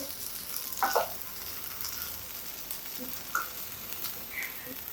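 Masala-coated squid fries in a pan, giving a soft, steady sizzle broken by a few sharp scraping stirs as the spice mix is worked off the pan.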